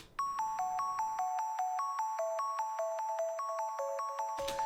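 Square-wave synth pluck arpeggio played dry with no delay: a long, even sequence of crisp, evenly spaced notes, loud and upfront, with no voices.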